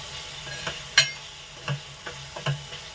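A spoon stirring ground paste of poppy seeds, melon seeds and cashews into a curry cooking in a home kitchen pan: a few soft scrapes and taps over a low sizzle, close and fairly quiet.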